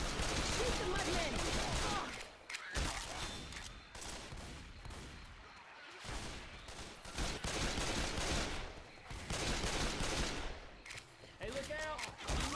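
Dense, continuous automatic gunfire from a Left 4 Dead 2 swamp level, loud and close, with rapid bursts barely pausing for brief gaps and voices cutting in over the shooting.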